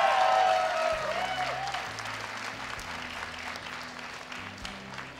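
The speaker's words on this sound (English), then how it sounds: "Give a big round of applause for Legend after that episode." Applause from the audience at a StarCraft tournament, loudest at the start and then settling into steady clapping from the crowd, with a voice speaking faintly underneath.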